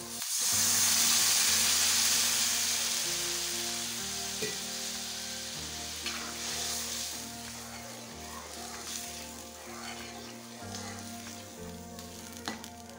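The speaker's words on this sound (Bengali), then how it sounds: "এখন জলটা দিয়ে দিচ্ছি" Water poured into a pan of fried spices for a peas-and-potato curry hisses into a loud sizzle at the start, then settles into a steady bubbling simmer with occasional stirring, close by and without talk.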